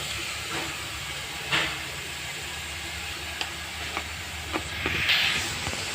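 Hot cooking pan hissing as water is added while vegetables are cooked, a steady hiss of steam with a few louder bursts and clinks, close by and with no talking.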